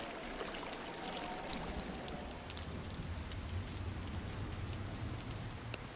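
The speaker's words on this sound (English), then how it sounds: "Must be really cold for all of us. With the constant rain." Constant rain falls in the PlayStation game Final Fantasy 9, a steady hiss of rain hitting surfaces with scattered sharper drop ticks, continuous and moderately quiet, with no talking.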